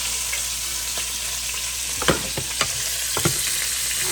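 Five turkey wings hit a hot pan and set off a steady close sizzle and frying hiss, with a few sharper crackling pops and clatters as each piece goes in. No one speaks.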